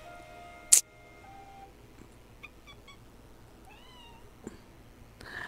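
A cat gives a couple of soft meows in a quiet room, with a sharp click near the start and faint background noise.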